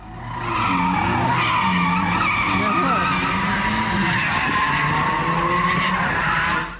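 Cars spinning donuts in the middle of a street intersection, tires screeching loudly and continuously with wavering squeal tones, engines revving underneath, no pause for the whole stretch.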